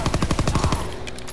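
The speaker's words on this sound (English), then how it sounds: "I just shot at Turner" Automatic gunfire in a Call of Duty WWII match: a loud, rapid burst of roughly a dozen evenly spaced shots over about a second, followed by a short ringing tail.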